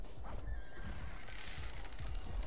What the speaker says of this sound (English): Is that an enemy horse?